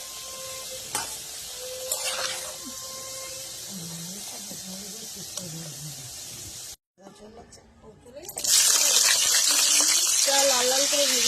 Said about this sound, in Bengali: তখন লাল লাল করে আলুটা ভেজে নিলাম।